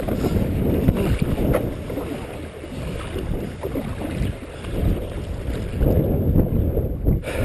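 Inflatable Sea Eagle FastTrack 385 kayak being paddled on open water, with steady splashing and sloshing from the strokes against constant wind buffeting on the microphone, close and moderately loud throughout.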